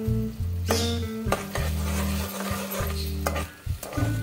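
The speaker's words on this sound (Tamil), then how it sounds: "இப்போ இந்த நெய்ல இந்த தண்ணியை சேர்த்துடலாம்" Water and sugar being stirred into hot ghee in a pan, with steady sizzling, scraping strokes of a spoon against the pan, and occasional clinks of metal, close and fairly loud with no talk.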